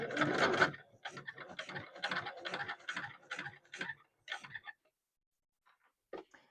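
A sewing machine top stitching a leatherette bag runs in a series of short, close, rapid bursts separated by brief pauses, then falls quiet, with one faint knock near the end.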